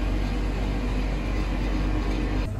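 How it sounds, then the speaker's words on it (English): Steady, loud rumble and rush inside a moving passenger train in France, a continuous low roar with no talking. "So we're on the train right now heading to Colmar."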